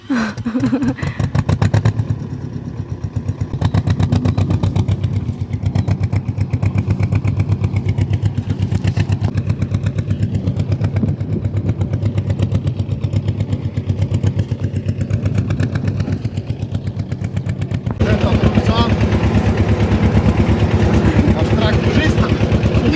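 A small tractor engine runs steadily during a hay harvest, loud and close for the whole stretch, while people talk and laugh over it.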